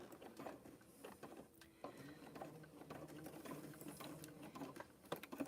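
Rope is fed through a sewing machine while a coaster is stitched in a circle. The machine gives a close, continuous mechanical chatter with small irregular clicks, and no one speaks over it.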